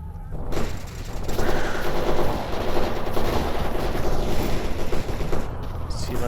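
A gunfight in S.T.A.L.K.E.R. Anomaly with dense, sustained automatic gunfire, rapid overlapping shots and bursts that are loud and continuous, with some crackling distant reports.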